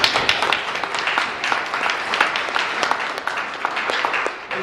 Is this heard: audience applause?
yes